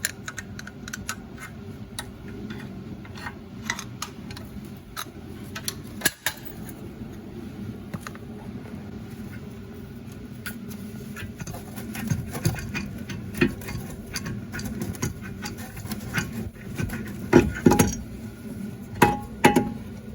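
Wrenching out brake caliper bolts on a 2018 Hyundai Sonata with a 14mm socket, a steady run of small metallic ticks and clicks close up, growing denser and sharper toward the end, with no talking.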